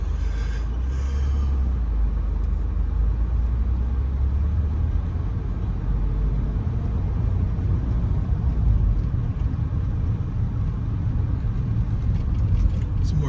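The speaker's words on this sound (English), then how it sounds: "I'm gonna stop right here, allow this car to make its U-turn." A car turns around on a residential street in Miami's Little Havana, heard from inside a stopped vehicle as a steady, close engine rumble and road noise that runs unbroken throughout.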